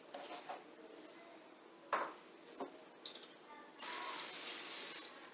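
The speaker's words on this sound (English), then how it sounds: "I'm just going to spray my hands." Cooking spray hisses from a can onto hands in a kitchen, a brief sustained spray burst near the end after a few soft clicks and handling knocks, quiet and close.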